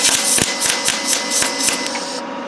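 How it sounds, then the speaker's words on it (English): Tack welding on radiator metal for a Honda Civic rebuild makes a loud, close crackling buzz with sharp ticks for about two seconds, then cuts off. "that's basically just going to act as a little tack weld for the moment"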